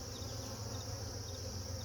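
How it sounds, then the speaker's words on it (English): Honeybees droning steadily inside a weakened, dying hive, a dense continuous buzz close to the listener with no pauses or voices. "There's still quite a few bees in it"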